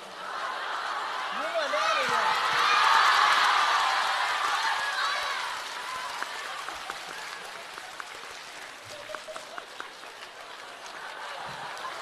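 Applause from a crosstalk show audience swells to a peak and then fades, with scattered laughter and a speaking voice carrying over the clapping.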